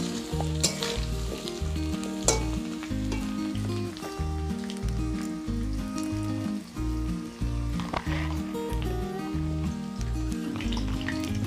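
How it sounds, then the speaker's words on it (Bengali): Potatoes frying in a covered pan are stirred, giving a steady sizzle with intermittent stirring scrapes, heard beneath prominent rhythmic background music throughout. "আলুগুলো নেড়ে চেড়ে দেব।"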